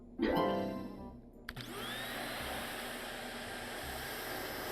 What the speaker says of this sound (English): So I'm gonna have Dayton just kind of vacuum a little bit.